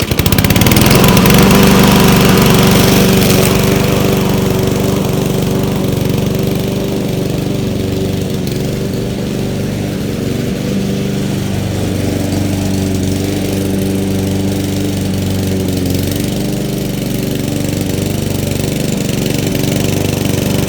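A lawn mower with a freshly sharpened blade runs loud and close, its engine droning steadily throughout with slight shifts in pitch and load as it cuts grass.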